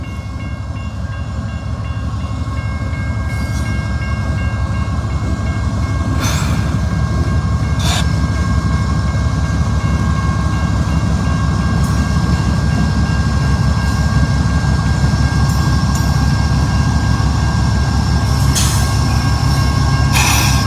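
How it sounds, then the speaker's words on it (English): A loaded coal train pulls off the Warrior Lead on the Paducah and Louisville Railway, giving a loud, steady rumble of locomotive engines and rolling cars with a low throb. Brief squeals and clanks cut through it now and then. "The train is pulling off the Warrior Lead after loading with coal"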